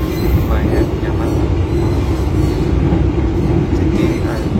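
Inside a moving Brantas economy-class passenger train, a loud steady rumble of wheels and carriage fills the space continuously, with broad low roar and faint rattling throughout.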